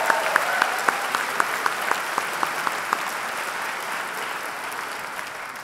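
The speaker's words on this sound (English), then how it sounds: "let's give him an applause" Ceremony audience at an Oxford MBA end-of-course event breaks into steady applause, dense clapping with a few sharper individual claps standing out, gradually thinning and fading toward the end.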